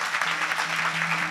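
An audience at an open-air Warkari kirtan in Bhalegaon Bazar, clapping together in a dense, steady burst of applause heard from nearby, with a faint hum underneath and no voices.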